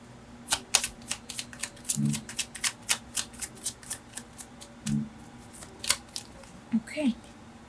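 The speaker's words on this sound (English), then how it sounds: "Okay, I'm gonna shuffle again." Tarot cards being shuffled up close, a rapid series of crisp riffling clicks and snaps, with a voice briefly speaking partway through.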